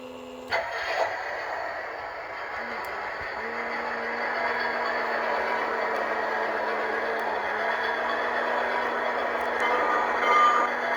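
A steady mechanical whir of a Lionel model toy train engine running continuously, with a faint high whine and an occasional click, fairly close and alone.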